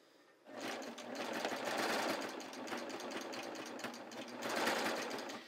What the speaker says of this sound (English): I'm just going to get it under there so I can start, you know, stitching on my line